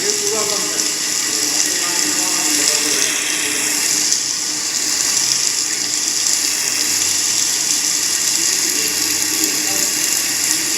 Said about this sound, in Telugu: వాటర్ వస్తూనే ఉన్నాయి కంటిన్యూస్గా చుట్టుపక్కల నుంచి